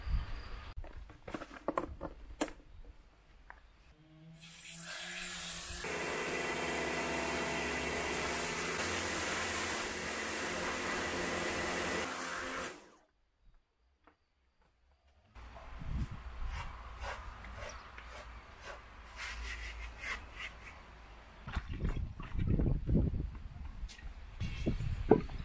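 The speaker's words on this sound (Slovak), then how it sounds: "Teraz idem vystriekať vápkou trošku." A pressure washer sprays stone cladding on a house wall to rinse off dust, a steady loud hiss running for several seconds, cutting out briefly, then resuming with rougher spattering.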